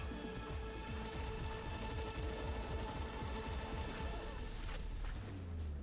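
Rapid gunfire rattles in a dense, continuous stream throughout the Palworld video game battle, with no clear pauses and steady loudness.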